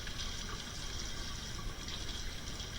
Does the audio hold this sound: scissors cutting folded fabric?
no